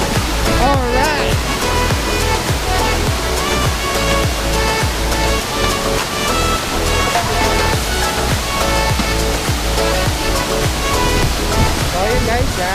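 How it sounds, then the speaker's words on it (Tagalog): Facol Falls in Cadiz City roars with loud, continuous rushing water heard from the top of the falls, a dense wash of sound with faint voices mixed in. "so nandito na kami sa taas ng falls."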